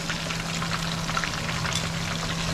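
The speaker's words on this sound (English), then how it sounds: "This is how we fry fish." Fish frying in vegetable oil, a steady dense crackle and hiss that stays loud and even throughout, with a low constant hum underneath and no speech.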